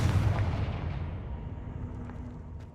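A Confringo fire spell bursts in the Hogwarts Legacy video game: a single loud, deep boom at the start that rolls off into a fading rumble over a few seconds.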